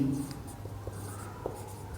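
Pen writing an answer on paper during a maths lesson, light scratchy strokes and small taps close by, short intermittent marks over quiet room hum.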